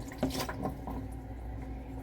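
Water from a bathroom sink being taken apart, dripping and trickling into a bucket placed underneath, a close wet splash and patter over a steady low background hum.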